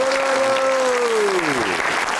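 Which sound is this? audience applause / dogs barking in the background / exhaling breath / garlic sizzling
audience applause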